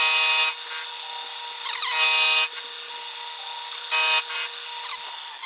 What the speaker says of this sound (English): So fire up the mill.